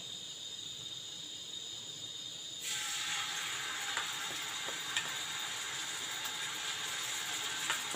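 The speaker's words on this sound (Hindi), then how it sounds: "अब इसमें लहसुन अदरक का पेस्ट डाल देंगे" Garlic ginger paste drops into about a cup of hot oil in a kadhai and sizzles steadily, a bright continuous hiss with faint crackles that starts abruptly partway through after a quieter lead-in.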